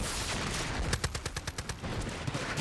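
Far Cry 5 explosion at a snowy winter outpost in the video game, a loud blast followed by a rapid run of crackling secondary bangs that roll on under dense, booming noise.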